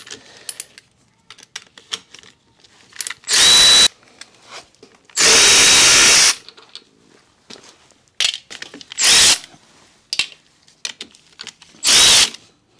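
Power tool on a Harley Davidson Low Rider ST brake caliper job, loud bursts of drilling or impact-driver whirring in several separate runs, one longer, with quieter clinks of tools and parts between.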